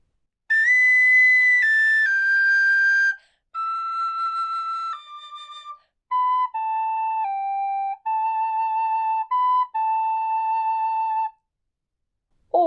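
Tin whistle playing the Braveheart melody slowly, clear sustained solo notes in phrases separated by short breaths, stepping down from a high octave to lower held tones, alone and close.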